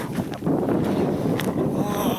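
Cold winter wind roars steadily across the microphone outdoors on a hike, a loud, continuous rumbling buffet with a voice speaking faintly beneath it.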